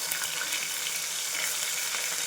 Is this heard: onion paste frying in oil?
yes